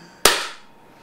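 One loud, snapping report from a paintball gun running on CO2, hitting abruptly and trailing off in a short bright decay, with nothing else around it.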